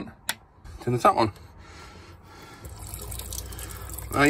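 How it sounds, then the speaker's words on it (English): Water running from a motorhome tap with the pump on: a soft, steady rushing flow that builds over the second half. Brief speech and handling noises come before it. "So, turn the water pump on, turn the tap on."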